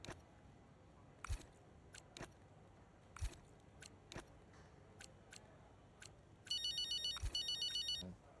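A phone rings in the F1 25 video game, a short burst of rapid electronic trills near the end following scattered soft clicks, faint and alone.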